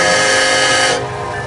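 A freight manifest train moves off after a crew change on a freezing day, a loud close rumble with a tonal whistle-like hum that drops away abruptly after about a second.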